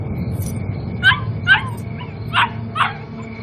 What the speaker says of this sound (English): The dog next door that was chained up was barking and barking.